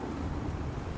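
Hurricane Laura lashes central Louisiana with heavy rain and strong wind, a dense, loud, continuous roar of downpour and gusts heard briefly without any voices.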